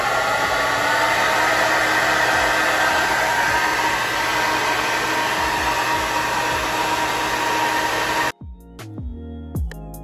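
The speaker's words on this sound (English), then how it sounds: "we're gonna take our blow dryer" A hair dryer blow-drying a headband wig roars steadily and loudly for several seconds, then cuts off, leaving a few light knocks and handling sounds.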